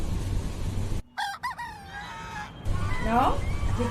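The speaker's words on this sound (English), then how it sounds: "This is hen." A rooster crows, then hens cluck in a short burst on a farm, loud and close over a low background hum, with brief gaps of near silence between the calls.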